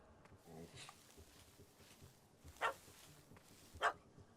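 A puppy barks in The Witcher 3: Wild Hunt, Hearts of Stone expansion, two sharp, faint yelps a second apart under a quiet game soundscape.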